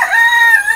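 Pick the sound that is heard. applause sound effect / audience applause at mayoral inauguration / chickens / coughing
chickens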